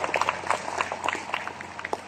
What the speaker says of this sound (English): So that needs a round of applause.